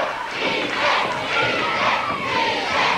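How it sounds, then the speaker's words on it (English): A wrestling crowd shouts and chants in surging waves, a loud, dense roar of many voices that swells and falls rhythmically throughout. "Crowd shouting easy"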